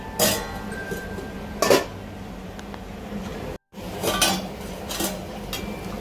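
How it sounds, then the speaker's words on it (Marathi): A metal lid set down on a kadai of Vidarbha-style chicken curry: several sharp, close clanks and clinks of metal on metal spaced across a steady low background hum, with no talking. "थोडं झाकण ठेवते त्याच्यावर."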